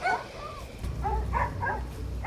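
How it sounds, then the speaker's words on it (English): A little baby puppy lets out soft, high yips and whimpering barks in a short burst, close by, with faint background murmur. "that's just a little baby puppy dog"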